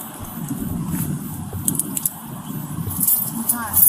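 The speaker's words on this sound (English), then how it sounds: "Let me see the keys." Close metallic jingling of a set of keys, brief rattles over a low rumbling background.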